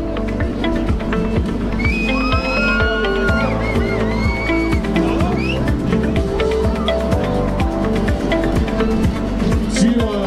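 A crowd at an athletics meet for the Benjamin age group applauds and cheers a race finisher, steady clapping and whoops at moderate distance, with a loudspeaker voice carrying tonal announcements over the din throughout.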